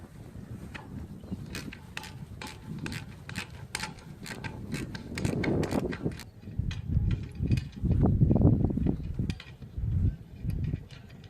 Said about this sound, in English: So I'm just going to undo the main bracket supporting the motor.